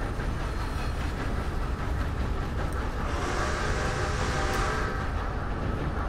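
Train rolling on rails in the western-themed game Red Dead Online, a steady, continuous rumble with faint rhythmic clatter and a brighter hiss swelling near the end, loud and unbroken with no talk.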